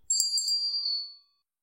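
A single bright bell ding rings out clearly, then fades away to silence.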